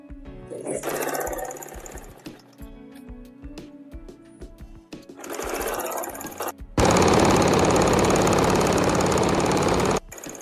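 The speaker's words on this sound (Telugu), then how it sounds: "ఇక్కడ కూడా డబుల్ స్టిచ్ చేసుకోండి." A sewing machine double-stitches a churidar seam, running in short loud bursts with brief pauses, then a long continuous run of steady mechanical whirring near the end, with no talking.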